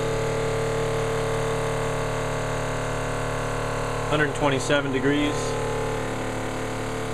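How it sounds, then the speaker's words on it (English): Grover 1167 air compressor pump running, a steady close mechanical drone with a constant hum throughout, with someone briefly speaking over it. "So I just stopped the compressor at 80."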